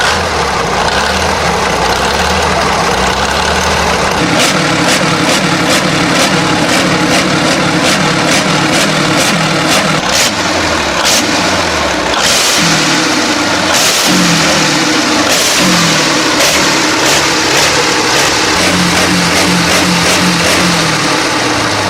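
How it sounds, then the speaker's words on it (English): A Maybach HL230 23-liter V12 petrol engine from a 1940s Tiger I tank running loud and close, a deep rumbling idle that rises and falls through repeated revs with rapid mechanical clatter on top. "Feel the might of the Maybach HL230, a 23-liter V12 petrol engine with 690 horsepower."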